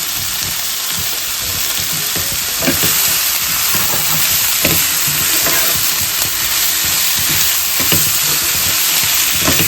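Pieces of chicken tenderloin searing in a hot pan for a creamy pasta with mushrooms, a loud steady sizzle and crackle throughout with occasional stirring clicks, close up and with no talking.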